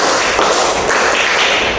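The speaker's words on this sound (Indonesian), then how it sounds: "Tepuk 1, tepuk 2, tepuk 3, tepuk 4," Classroom of students clapping together in a counting routine, a loud, close, dense burst of hand claps that holds steady for the whole short stretch.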